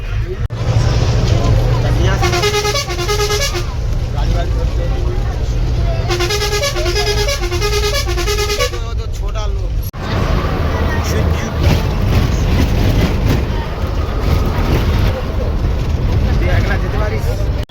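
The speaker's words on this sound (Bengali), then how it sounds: "বাস কিন্তু ছাড়ছে এখন।" A bus pulls away and drives along a road to a Sundarbans village stop at Shanibazar, its engine rumbling steadily with loud, melodic horn honks in the first half and busy traffic noise with babble behind it.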